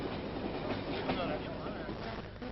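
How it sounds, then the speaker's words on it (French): A French TGV high-speed train runs along the track at about 160 km/h, giving a steady, rumbling roll with faint clatter, heard at low level from an old recording. "En attendant, le TGV se contente de rouler à 160"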